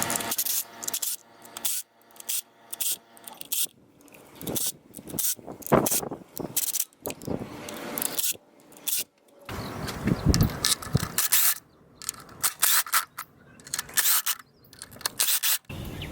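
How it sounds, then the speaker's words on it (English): Valve cover bolts on a 2.3L DOHC engine of a Ford Fusion being loosened with a ratchet, close bursts of rapid clicking pawl sounds separated by short pauses and scraping handling noises. "So we're going to go around and start loosening these up now."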